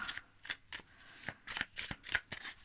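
Tarot cards riffled and snapped in quick bursts, a run of crisp papery shuffles and flicks close to the microphone, quiet overall with no one speaking.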